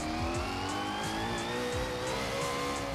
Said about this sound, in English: That's not really a turbo noise, is it? That's more of a supercharger whine.